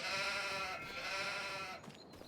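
Sheep bleating in a sheep pasture in Farming Simulator 25, on an East Frisian coast farm map; a sustained, steady bleat of a single sheep close by, with no talk.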